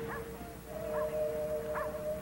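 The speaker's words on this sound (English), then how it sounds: "Is there a dog around here? There's one in the yard." A dog barks in a yard, three distinct yelps spaced about a second apart, not close, over steady background noise and a tonal hum, with no talk.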